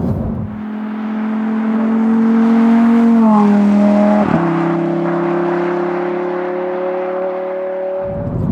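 A 2024 Lamborghini Huracan Tecnica with 640 horsepower revs loudly and alone, its engine note holding a steady, rich tone, then dipping sharply in pitch before settling into a sustained, slightly lower drone.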